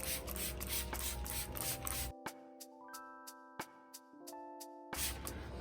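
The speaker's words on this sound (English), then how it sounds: "here we are with the foliar spray." A hand sprayer mists foliar feed onto garden plants in a long hissing burst, then another after a gap filled with soft musical tones.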